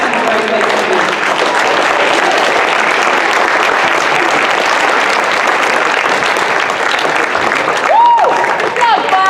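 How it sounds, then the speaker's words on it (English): An audience at a school spring awards assembly claps in sustained, dense applause that fills a hall, with a few brief whistles or cheers near the end. "another round of applause for making CHS a great place to be"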